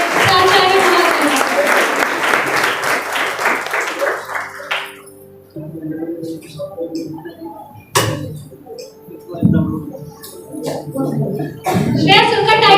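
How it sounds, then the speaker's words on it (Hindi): An audience at a Teachers' Day ceremony applauds the principal in a loud burst of clapping that fades after about four seconds, followed by quieter room sounds, scattered clicks, a thud and a brief rise of noise near the end. "जोरदार ताली से अभिनंदन कीजिए प्राचार्य महोदय"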